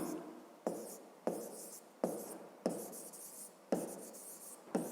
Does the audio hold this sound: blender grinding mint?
no